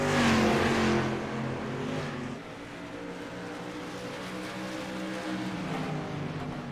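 Stock cars race at Oswego Speedway in the iRacing game, a loud, steady multi-engine drone that swells at the start and then holds as the pack comes off the turn, with no voices over it.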